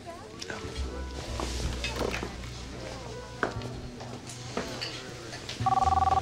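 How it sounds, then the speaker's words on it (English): A mobile phone rings close by at the very end, a steady pulsing electronic tone. Before it comes a busy room with footsteps, knocks and people talking. "Oh, that's my phone."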